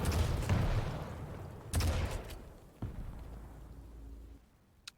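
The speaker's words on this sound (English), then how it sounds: "Oh, that's a lovely rocket by Xron" Rocket launcher blasts in a Quake Pro League match between Coollerz and Xron: a loud opening volley, a sharp explosion near two seconds, another thud near three, then a decaying rumble and a final faint crack.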